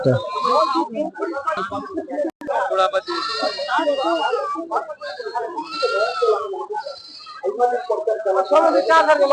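Goats bleat repeatedly at a busy rural livestock market, loud and close, with overlapping calls mixed into continuous chatter from buyers and sellers.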